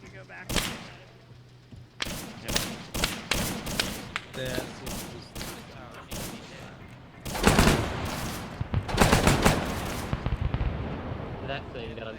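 Repeated bursts and single shots of gunfire ring out in Arma 3, set in a 1960s German patrol in Argentina, some heavy and booming, spaced irregularly and mixed with voices talking over the shooting.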